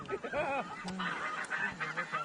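A flock of snow geese honks in a busy chorus during a hunt, with overlapping calls carrying on steadily and fairly close throughout.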